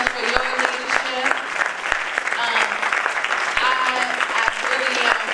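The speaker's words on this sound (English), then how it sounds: "give our panel a marvelous round of applause" An audience at a panel session bursts into loud, sustained applause with sharp individual claps, while a voice speaks over the crowd throughout.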